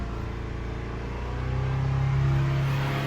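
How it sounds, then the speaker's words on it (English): A Subaru Forester XT engine, smoky and burning oil, rises in a steady revving drone that swells louder toward the end, a close, continuous mechanical hum with no talking. "Maybe I'll just rev it up a little bit."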